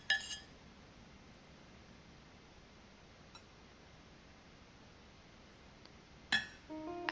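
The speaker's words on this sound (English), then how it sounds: "If you have leftover liquid, add a few ice cubes" Ice cubes clink in a glass of leftover mung bean cooking liquid: one light clink at the start and another about six seconds later, separated by quiet room hiss.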